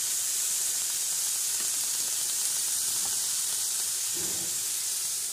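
Broccoli and tomatoes cook in a hot pan with a steady, even sizzle and hiss that stays constant from start to finish, with no talking.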